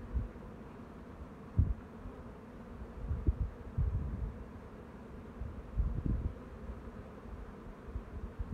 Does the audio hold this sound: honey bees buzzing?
yes